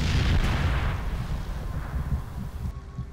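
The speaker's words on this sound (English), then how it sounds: "I'm gonna huck a couple grenades in there." A grenade blast in the video game Far Cry 2: a loud, deep boom at the start that rumbles and slowly fades over about three seconds, with no voices.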